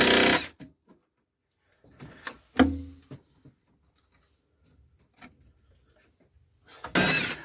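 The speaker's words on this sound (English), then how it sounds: "removing the top nuts from that bracket" A spanner working the top nuts off a suspension bracket on an MG Metro, giving a few sparse metallic clicks and clanks separated by quiet gaps, with louder bursts of handling noise at the start and end.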